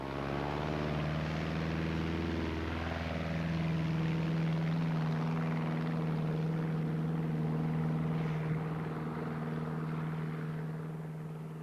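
A light aeroplane drones past with a steady propeller engine hum holding a clear low pitch, swelling slightly louder midway and then slowly easing, with no voices.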